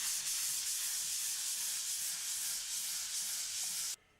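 Drywall joint compound being hand-sanded on a repaired wall, a steady, close, hissing scrape that runs continuously for about four seconds and then stops abruptly.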